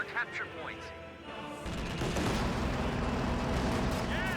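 Battle sounds from the strategy game Company of Heroes 2, with a dense, continuous roar of gunfire and artillery-like rumble building up after a quieter opening, and scattered in-game voice effects.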